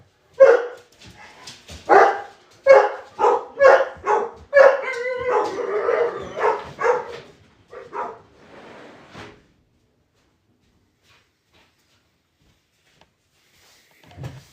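Several dogs bark excitedly in a yard, a rapid run of loud, close barks and yips over roughly nine seconds, then near silence with a faint thump at the end.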